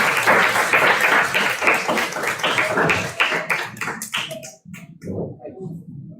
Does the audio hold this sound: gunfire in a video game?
no